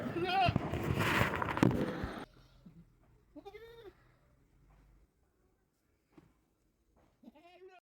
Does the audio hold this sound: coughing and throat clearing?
no